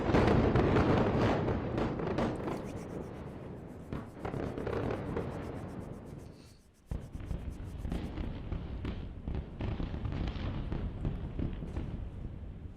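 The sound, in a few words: explosion in Beirut from Israeli airstrike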